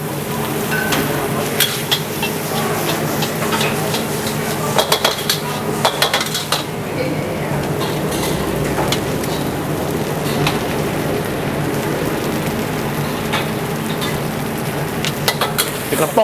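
Nasi goreng kampung with chicken is stir-fried in a pan at a busy food stall, with a steady loud sizzle under rapid, repeated metallic clanks and scrapes of the spatula against the pan throughout.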